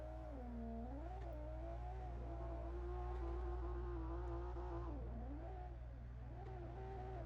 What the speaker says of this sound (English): this car in the game tends to be the quietest